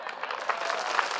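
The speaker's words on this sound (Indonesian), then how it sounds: "Kenapa mereka tepuk tangan?" A studio audience at an Indonesian health talk show claps in a steady, dense patter, moderately loud and continuous throughout with no voices over it.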